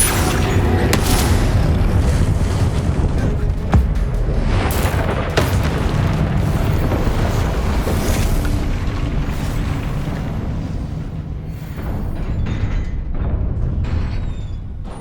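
Spell explosions in the video game Hogwarts Legacy, a continuous barrage of booming blasts and bursts during combat, loud and dense with sharp cracks through the first half before thinning slightly toward the end.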